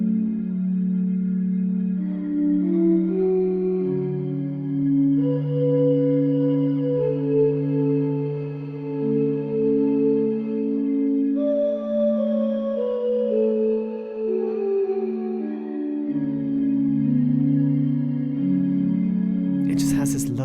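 Pianobook Bottle Organ sample, a soft breathy organ made from blown bottles, playing sustained chords and held tones with chorus and reverb, steady and close throughout with slow chord changes.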